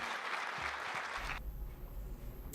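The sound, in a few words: applause in a played news clip after Rubiales's speech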